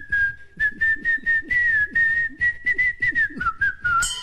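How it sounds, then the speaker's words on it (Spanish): A man whistles the melody of Shakira's "Waka Waka" in short, clear phrases on a television game show, close and alone without talk. "Ah, silba bien él."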